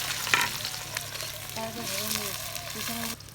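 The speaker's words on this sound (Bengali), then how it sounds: "পেঁয়াজটা ভেজে নিই, এটা খুবই দরকার" Onions frying in a pan for chicken biryani, giving a steady close sizzle with a few stirring scrapes, and a faint tonal hum running underneath partway through.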